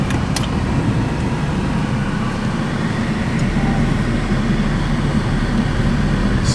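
A Daihatsu Gino small car with a 38-horsepower engine driving off, a steady, loud broadband road and engine drone heard from inside, constant throughout with no talking.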